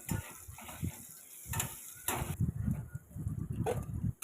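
Potato pieces frying in hot oil in a pan, a soft, uneven sizzle with faint crackles and occasional clicks of stirring, fairly quiet and close.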